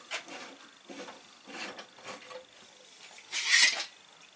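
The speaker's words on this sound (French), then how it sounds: "Je vais enlever les presses" Clamps come off glued pallet wood in a series of close rubbing and scraping sounds with short gaps between them, ending in a brighter metallic scrape. No one speaks.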